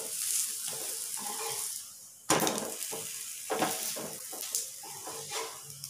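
A ragi roti roasts in oil on a pan, giving a soft sizzle broken by a sharp scrape or flip partway through, followed by intermittent crackling and handling noises.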